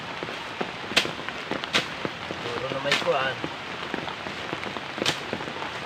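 Light drizzle patters steadily outdoors during grass cutting, a soft continuous hiss broken by occasional sharper drop ticks, with a voice speaking briefly over it.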